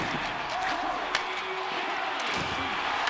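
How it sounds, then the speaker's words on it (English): A hockey arena crowd in Tampa Bay roars in a steady, dense wash of cheering during a playoff game, with a commentator talking over it and a faint sharp knock partway through. "This crowd is into it now here in Tampa Bay"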